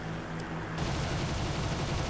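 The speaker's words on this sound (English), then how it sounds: "Unleash a burst at the Liberator, destroy his right wing." A Fw 190D fighter fires its machine guns at a Liberator bomber in a flight sim video game, a dense continuous burst cutting in sharply over the engine drone and running loud to the end.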